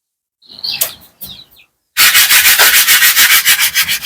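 Dry scratchy rubbing of sandpaper on a filled fiberglass mold starts in a few short strokes, then becomes loud, rapid back-and-forth sanding with a steady rhythmic rasp.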